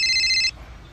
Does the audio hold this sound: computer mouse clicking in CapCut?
no